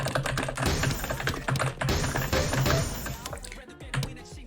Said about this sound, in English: I can hear your keyboard pretty well as well from the Discord.